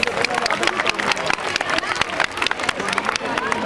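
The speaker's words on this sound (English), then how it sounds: "Can we clap for those young announcers?" Audience at a school event at DPS R K Puram claps for young announcers, a dense patter of many hands with crowd murmur, steady and fairly close.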